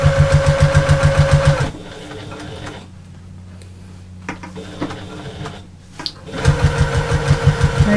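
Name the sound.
sewing machine stitching across bag shoulder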